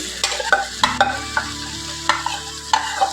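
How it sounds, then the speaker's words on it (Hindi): Marinated chicken frying in a kadai over high heat, giving a steady close sizzle with several sharp clanks and scrapes of a spoon stirring against the pan. "मैरिनेट কৰি থোৱা চিকেনখিনি আইয়ে এতিয়া কেৰাহীত দি দিব और अच्छे से फ्राई करेंगे।"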